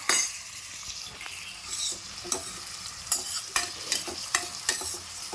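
Onions frying in a pan with a continuous close sizzle, broken by sharp scrapes and clinks of a spoon at a quickening, irregular pace; nobody speaks.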